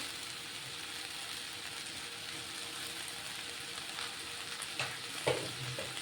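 Okra (lady's finger) fries in a pan with a soft, steady sizzle and crackle, fairly quiet and continuous, with a few brief scrapes of stirring near the end.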